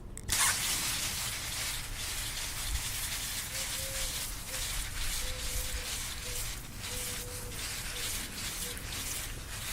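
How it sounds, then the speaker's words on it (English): A steady, broad hiss of water spraying continuously at close range onto hoya plants, with faint tonal squeaks drifting in partway through. "So you just want to spray off the plant just like that."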